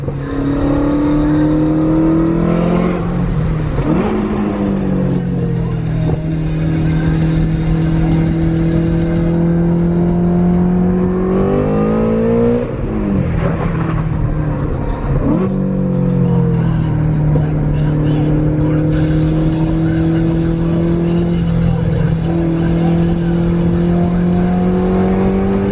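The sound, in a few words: Ford Mustang accelerating on highway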